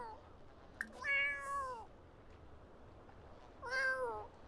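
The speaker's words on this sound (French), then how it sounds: "Attends, j'ai entendu un chat." Two separate cat meows from a video game (The Sims 4), each a drawn-out whine, sound in a quiet setting with a soft click before the first.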